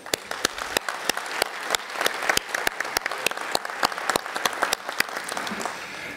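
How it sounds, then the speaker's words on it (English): A conference audience at a drone information management event claps after the day's speakers, with distinct individual claps standing out from a thinner spread of applause that tapers at the end. "Please join me for a well-deserved round of applause."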